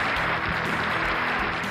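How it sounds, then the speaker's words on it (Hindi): Applause from an audience welcoming a speaker onto a stage, a steady wash of clapping that holds evenly throughout. "जोरदार तालियों के साथ सर का स्वागत किया जाए"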